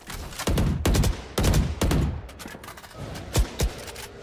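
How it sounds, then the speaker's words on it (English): Single gunshots in a tactical shooter match, about seven sharp cracks spaced unevenly over a few seconds, loud with short echoing tails. "A little bit of shots coming here through mid"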